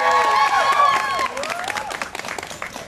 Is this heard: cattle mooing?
no